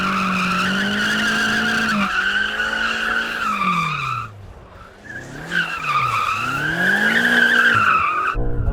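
Tires squeal and skid continuously as a car is drifted in two-wheel drive mode, likely a Mercedes-AMG GT63, the screech swooping in pitch over a roaring engine, briefly dropping away mid-slide before returning loud and close.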